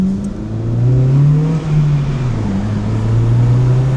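A motorbike accelerates at night through the streets of Osaka, its engine note rising and bending in pitch as it revs up, loud and close throughout the few seconds.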